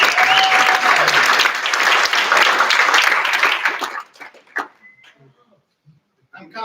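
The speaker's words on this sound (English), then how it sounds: "Let's give a round of applause and thank you." Audience at a symposium and dinner bursts into hearty applause that runs strong for about four seconds, then cuts off abruptly, leaving a few scattered sounds and near silence.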